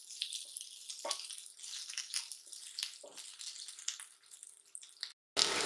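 Onions sautéing in a pan with cloves and cardamom for a squid curry, a close, bright hiss of frying with occasional stirring clinks, stopping briefly before a louder sizzle returns.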